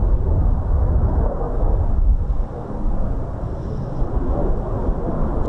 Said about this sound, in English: So touch and go for this Typhoon.